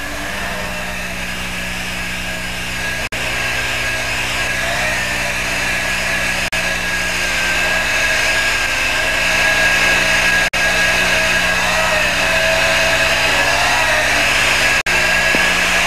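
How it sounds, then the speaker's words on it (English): An orbital sander with 80-grit paper whirs at a steady high pitch on an aircraft engine cowl, running continuously and close by, with faint clicks now and then and no talking. "Sanding is accomplished with an orbital sander starting off with 80 grit paper."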